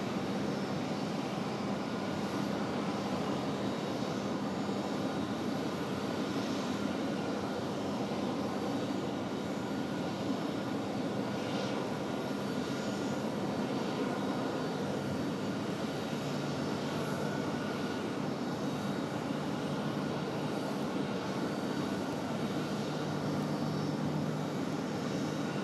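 An Icelandair airliner sits at Raleigh Durham airport before pushback, its engines giving off a loud, steady, unbroken roar that holds for the whole stretch with no talking.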